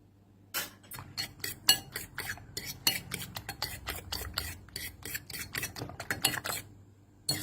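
Pork mixture is beaten with a utensil in a bowl, producing a rapid run of sharp clinking taps against the dish, irregular and close, with no voices over it.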